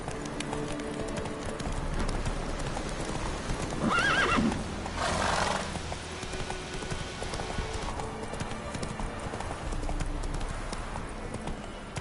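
Roach, the horse in The Witcher 3 video game, gallops with steady rhythmic hoofbeats and gives one clear whinny partway through, all over the game's ambient background.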